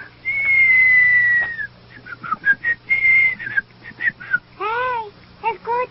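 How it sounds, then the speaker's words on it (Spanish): A cartoon character from the 1991 series Kissyfur whistles a series of bright, wavering notes, some long and sliding, others short and chirpy, close and clear against a quiet background. "¡Ahora ya puedo silbar!"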